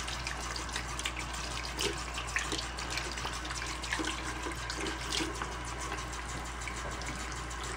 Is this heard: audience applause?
no